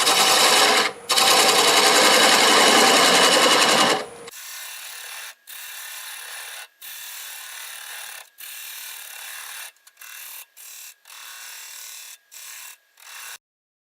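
Wood lathe turning a black locust burl bowl at about 800 RPM, with a loud steady grinding hum for the first four seconds. The cutting then drops to a thinner, intermittent scraping broken by brief pauses.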